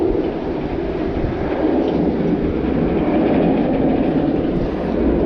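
A steady, loud rumble of an amusement park train at Busch Gardens running along its track, continuous and close with no breaks.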